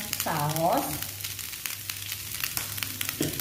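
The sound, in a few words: stir-frying pork rice vermicelli in a pan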